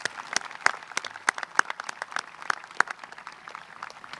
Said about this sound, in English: Can we get a round of applause for those students?